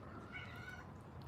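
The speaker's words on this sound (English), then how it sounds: "having a cat in heat's the worst thing in the world" A female cat in heat gives a loud, drawn-out meow with a rising, wavering tone, close by and alone against a low background hum.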